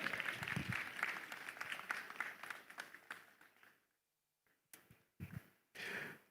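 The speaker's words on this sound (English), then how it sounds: "Give her a round of applause as she comes up." Audience applauds at an investment summit panel as a speaker walks up, dense clapping for about four seconds before tapering off, followed by a few scattered thumps and brief noises.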